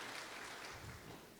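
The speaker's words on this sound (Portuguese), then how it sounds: "salva de palmas para os nossos queridos palestrantes" Brief applause from a conference audience for the speakers and the presiding officials, a soft, steady patter of clapping heard faintly from a distance.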